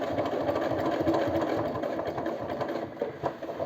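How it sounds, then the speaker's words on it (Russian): Sewing machine stitching thick denim jeans with strong black thread, a close, steady motor drone with rapid needle rhythm running continuously, no voices. "И по краю, а потом еще одну строчку вдоль тоже проложу."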